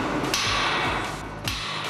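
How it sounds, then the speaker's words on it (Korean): A hammer beating on bolts and nuts at the corners of a tower crane mast during dismantling, ringing metallic impacts over loud, steady construction-site noise. "오직 망치질만으로 마스트 네모 모서리에 각각 체결된 볼트와 너트를 풀어줘야 한다."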